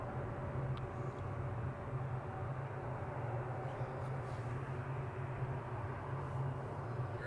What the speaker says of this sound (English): Good turn and burn there by Pegasus. On its way to Istanbul.